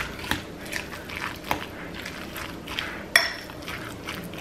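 Guacamole of avocado, red onion and colorful vegetables folded together in a bowl, soft wet squelches and a few sharp utensil taps against the bowl, fairly quiet and close, with no speech.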